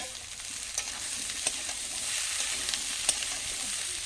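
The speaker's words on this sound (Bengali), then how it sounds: "মূলো আর এই যে পেঁয়াজ কলি, এটা এবার দিয়ে দেবো" Radish and onion greens frying in a pan with oil, a soft, continuous sizzle with occasional crackling pops and light stirring, fairly quiet and with no talk.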